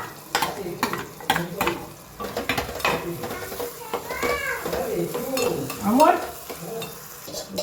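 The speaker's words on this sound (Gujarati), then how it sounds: "ટામેટું સરસ મિક્સ કરી લઈએ." Spoon stirring tomatoes and green chillies in a pan, a busy run of scrapes and metallic clinks with light sizzling, close and fairly quiet, with a faint voice in places.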